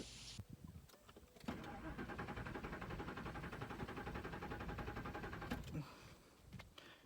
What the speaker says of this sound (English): I'll leave a clip of the car that was sitting there spinning over